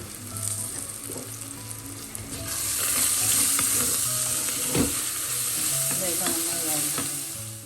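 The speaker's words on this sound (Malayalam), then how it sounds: "ഉള്ളിയൊക്കെ നന്നായി വഴണ്ടിട്ടുണ്ട്." Onions sautéing for a homestyle buffalo meat roast, a loud close sizzle that swells as a spatula stirs and scrapes the pan, with occasional clinks.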